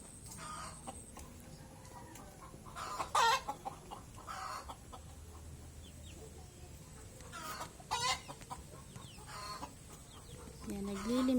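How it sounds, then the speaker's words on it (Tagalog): Chickens cluck in short bursts at close range, some brooding, with a few louder calls standing out against a steady outdoor garden background. "Takaw niya, mga manok na yan."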